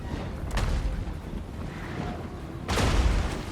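Cannon and artillery fire during a Total War: Warhammer Dwarf battle: two distinct booms, one early and a heavier one near the end, over a dense, continuous low rumble of combat.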